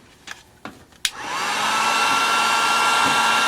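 Hot air blower warming stickers on a new snow brush: a few faint taps and clicks, then the blower kicks on and settles into a loud, steady whooshing roar with a high whine, close by and without talk.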